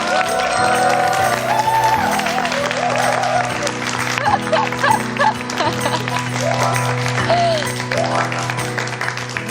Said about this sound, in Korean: 크게 박수 한번 부탁드려도 될까요?